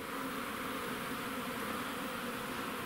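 Swarm of honeybees flying around a stationary hive during an early spring cleansing flight, a steady, dense buzzing drone that stays close and even throughout with no talk.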